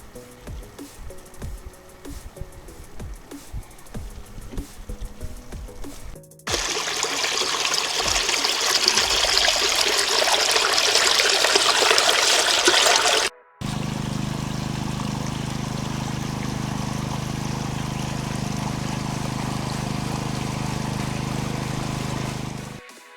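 Water flushes through a large gold-prospecting sluice fed by a 5,000 litre-per-hour pump, with a softer trickling stretch giving way to a loud, steady rush and then a continuous flow over a low mechanical drone.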